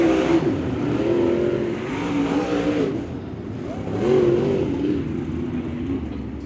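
Modified race cars roar around the Macon Speedway track, loud engines rising and falling in pitch as several cars pass close together, with no talking.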